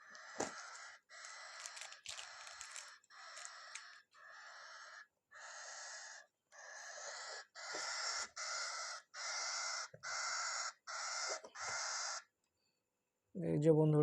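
A cockatiel chick calls in a series of short, repeated raspy chirps, close and distinct, with brief gaps between them, followed by a moment of silence and a short lower burst at the end.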